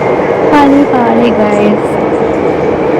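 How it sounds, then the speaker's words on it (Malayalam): A Sydney metro train runs with a steady, loud rumble and hiss filling the carriage, while a person speaks over it and brief high squeals rise from the wheels or brakes. "ഈ മെട്രോയിലെ ശബ്ദം കേട്ടോ"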